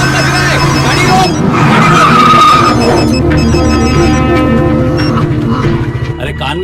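A car in a Bollywood action film brakes hard, with tires squealing in a long, loud, wavering skid alongside engine noise that slowly fades.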